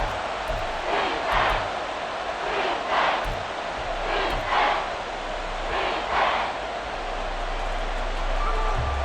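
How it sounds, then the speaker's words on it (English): Stadium crowd at a football game, a loud continuous roar swelling in repeated waves of cheering, dense and distant-sounding, with no clear speech. "this crowd is making an impact right now"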